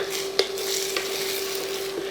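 Soft sizzling of eggs in a pan on an electric stove, with a couple of light scraping clinks as they are stirred, close and quiet.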